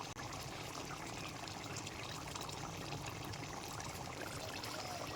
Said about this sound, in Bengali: এবার এর মধ্যে আমি একটুখানি ঘি ছড়িয়ে দিচ্ছি।